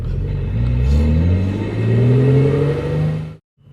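A supercharged Infiniti G35 coupe with a Vortech supercharger, making 460 whp, revs hard in a tunnel with a loud, booming exhaust and rising engine pitch, then cuts off abruptly into silence.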